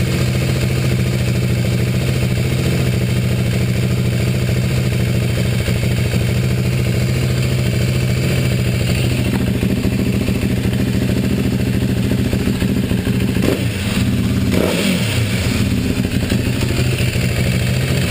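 A Ducati Hyper 821 motorcycle engine runs after an oil change, a loud, close, continuous rumbling idle with mechanical clatter, briefly disturbed by a couple of knocks near the end.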